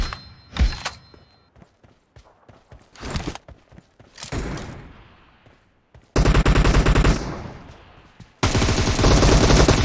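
Video game gunfire from a PUBG Mobile team deathmatch, with scattered single shots and thuds followed by two long, loud bursts of rapid automatic fire close by.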